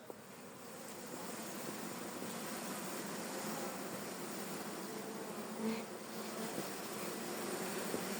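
Honey bees buzz in a steady, dense drone from an opened hive after smoking, a continuous close swarm hum with no talk.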